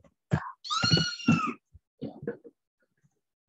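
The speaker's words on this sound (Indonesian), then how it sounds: "Suara kucing." Short cat sound effect of a few bursts, with a drawn-out, tonal meow-like call in the middle followed by softer chirps, close and clear, with no talk.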